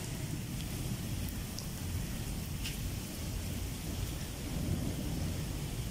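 Heavy rain pours down steadily in Pakistan with a dense hiss, while low thunder rumbles continuously underneath.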